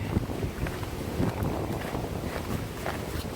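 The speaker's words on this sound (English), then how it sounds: "The wind has shifted. The breeze has increased" Steady wind blows through an eastern hemlock forest by Charleston Lake, a continuous broadband rush with gusts that buffet the microphone, moderately loud and with no voices.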